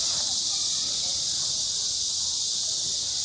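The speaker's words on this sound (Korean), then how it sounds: "한낮의 매미소리가 시원한 숲속 느낌을 줍니다" Steady high-pitched cicada buzz fills the midday air without pause, a dense continuous drone from insects in the trees of a garden at Wuhou Shrine, Chengdu.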